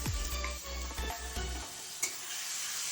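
Chopped tomato and capsicum frying with onions in a pan for egg kosha, a faint, soft sizzle with light stirring, a low hum fading out partway through.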